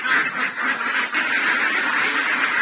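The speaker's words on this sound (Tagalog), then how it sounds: "Yan na po yung ating mga itik." A flock of ducks on a Philippine duck farm keeps up a dense, continuous chorus of overlapping quacks and nasal honks, fairly close and loud, with no pauses.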